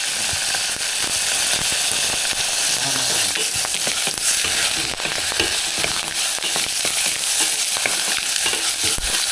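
Chopped tomatoes sizzle and crackle in a hot pan while being stirred for a mung bean (monggo) dish, with a steady, loud frying hiss and frequent scraping clicks from the spoon throughout.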